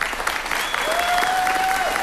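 Parents at a high school graduation in a gymnasium cheer and applaud steadily as about 30 students cross for diplomas, a dense, continuous wash of clapping with a thin whistle cutting through.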